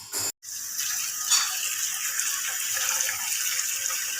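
Water from a tap gushes steadily into a small toy doll's tub, close and continuous after a brief dropout at the start.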